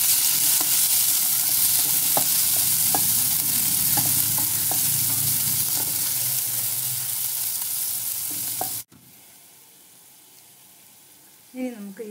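Chopped tomato hits hot oil in a pan while cooking Kerala-style karimeen pollichathu (pearl spot fish), giving a steady, close, loud sizzle with stirring clatter for about nine seconds before it drops to a quieter hiss.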